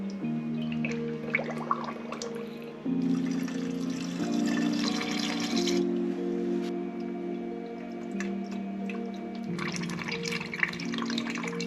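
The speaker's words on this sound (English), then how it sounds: "The instructions say fill to the top of the filler neck." Coolant poured into the filler neck of a BMW X5 E70 during a cooling-system bleed, a steady liquid gurgle and trickle close by, with a running engine humming steadily underneath throughout.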